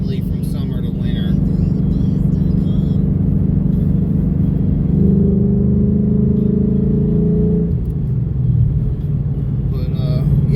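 A modified turbocharged Mustang GT rumbles deeply while driving, its engine drone rising briefly in pitch mid-way before settling back to a steady low growl.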